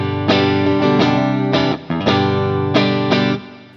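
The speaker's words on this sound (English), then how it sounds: "Here's the sound with the plate reverb." Electric guitar chords played through TH-U Overloud amp software ring out with a lush plate reverb, struck in a steady rhythm with a shimmering wash sustaining between strums, loud and close.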